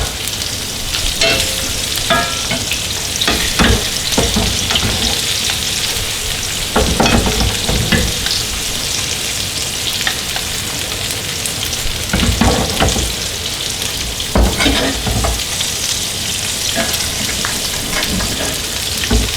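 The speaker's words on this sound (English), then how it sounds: "A little bit of a butter oil basting." T-bone steak searing in a pan while being basted with butter and oil, a loud, close, crackling sizzle with frequent spattering pops and bursts, continuous throughout and without speech.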